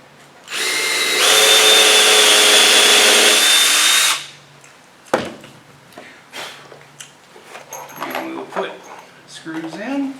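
Power drill driving a screw into a wooden boat deck during a repair, one loud steady whir for about three seconds, followed by clunks and someone talking.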